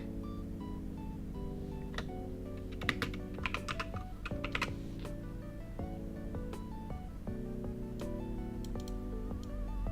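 Steady typing on a computer keyboard, with quick uneven bursts of light key clicks running throughout, heard faintly over a sustained musical backdrop of held tones.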